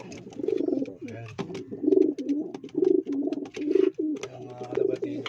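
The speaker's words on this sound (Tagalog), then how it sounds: "Ayun mga kalapatids." Pigeons coo in a steady series of soft, throaty, rolling calls, repeating about once a second and close by, with occasional rustles and brief clicks among them.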